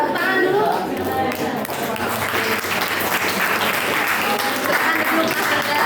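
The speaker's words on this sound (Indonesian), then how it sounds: "Kasih tepuk tangan dulu" A classroom of students claps for a presenting group during a history lesson, steady close clapping throughout with voices mixed in beneath.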